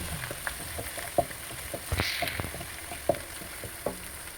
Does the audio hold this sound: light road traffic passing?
no